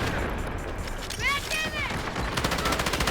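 Rapid automatic gunfire in the shooter Delta Force, a steady rattling stream of shots close up, mixed with game sounds and someone talking over it, with distinct rhythmic bursts toward the end.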